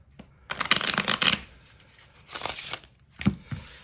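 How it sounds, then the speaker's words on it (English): Decks of playing cards are riffle shuffled in several quick bursts of dense fluttering clicks, close and crisp, with short pauses between them. "So let's get these shuffled up."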